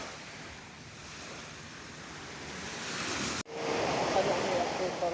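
Sea waves surge and wash steadily while a person bathes in the sea, with broad rushing surf and wind buffeting the microphone; a brief dropout breaks the sound before the water noise returns louder.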